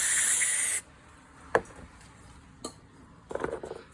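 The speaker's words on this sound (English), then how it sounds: "after you sprayed this, to let it soak in, let's just spray it again" A long aerosol hiss of cleaner sprayed on the EGR valve of a 2010 Honda Accord, then a couple of short sharp spray bursts, close and fairly loud against a quiet background.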